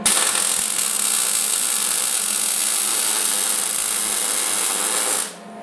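A continuous, steady hiss and crackle comes from MIG welding laying a bead to fill a gap on a steel cart frame. It runs close and loud without a break for about five seconds, then cuts off near the end, with no talking.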